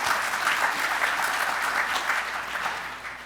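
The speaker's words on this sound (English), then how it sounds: "Hey, round of applause." An audience gives a steady round of applause during a panel event on the Colorado River shortage in Arizona, dense clapping that tapers off near the end.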